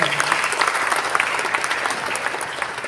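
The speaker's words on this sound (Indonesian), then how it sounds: "Tepuk tangan sekali lagi." Audience applause at a formal inauguration ceremony for the board of a Betawi martial-arts association, a dense, steady patter of many hands clapping that stays loud and even throughout.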